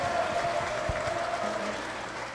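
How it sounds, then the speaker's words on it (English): Audience applause in a studio, a continuous patter of clapping at moderate loudness that gradually tapers toward the end, with no one speaking over it. "Let's get a round of applause for the audience"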